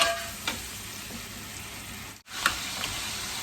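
Blue crab is stir-fried in curry powder in a pan, a constant close sizzling hiss punctuated by a few scraping stirs and a brief dropout midway.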